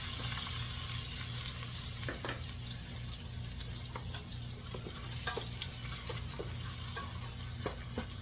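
Diced onions fry in butter in a pan for Creole green beans, a steady, close sizzle running throughout with occasional soft clicks and stirring taps, no talking.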